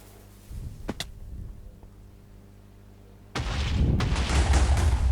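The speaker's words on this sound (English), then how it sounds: "Well, the explosions are nice" Blocky Minecraft explosions boom, a sharp crack early on, then a loud sustained blast with rumbling debris that carries on to the end.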